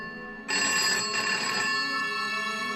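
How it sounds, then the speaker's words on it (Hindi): After a moment of quiet, a phone abruptly begins a loud, sustained electronic ring that continues steadily and alone to the end. "आनंद का फोन बजा।"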